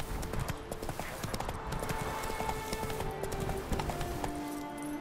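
Geralt's horse Roach gallops in The Witcher 3, a fast, continuous clip-clop of hooves that stays close and loud for the whole stretch.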